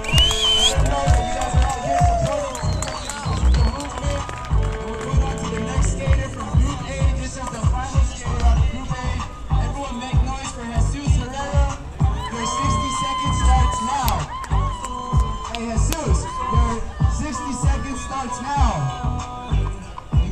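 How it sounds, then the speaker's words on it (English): Crowd at an outdoor skate street contest in Albuquerque cheering and whooping between runs, a busy babble of voices with shouts rising over skateboard wheels and pops, fairly close and continuous. "everyone give Shiv a round of applause"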